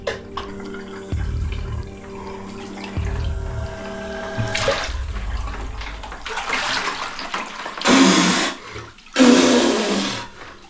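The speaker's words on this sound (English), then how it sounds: "I'm about to enter the cold zone with the ice bath." Water sloshes and splashes as a person lowers into a tub of ice water, with churning surges and two loud bursts of splashing near the end, no talk.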